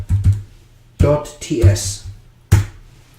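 Code being typed on a computer keyboard at close range, heard as a few loud clustered keystroke clacks separated by short pauses.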